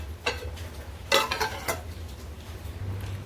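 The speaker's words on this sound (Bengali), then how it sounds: "এবার একটু ঢাকনা দিয়ে চাপা দিয়ে দেব" A metal lid is set down over a pot of simmering rice with water and keora leaves for biryani, giving a few short clanking contacts against a steady low hum, close by and fairly soft.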